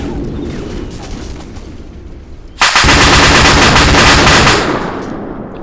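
Gunfire in the military video game ArmA 2 ACE during an airport battle, a sudden loud burst of sustained rapid automatic fire that lasts about two seconds after a quieter opening.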